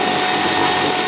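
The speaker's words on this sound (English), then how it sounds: "we are going to drill a hole in the bucket just above where the handle was" A loud, close power drill whirs continuously while boring a hole through a plastic bucket just above the handle spot, a steady high-speed grinding drone with no voices.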